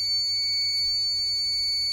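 An electronic buzzer driven by an ESP8266 microcontroller over MQTT sounds a continuous, steady high-pitched tone, loud and close, with a faint low hum beneath it.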